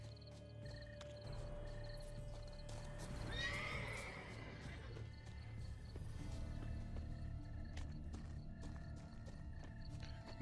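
Roach, Geralt's horse in The Witcher 3: Blood and Wine, gives a loud whinny around the middle, with clip-clop hoofbeats trotting steadily throughout over a busy outdoor game ambience.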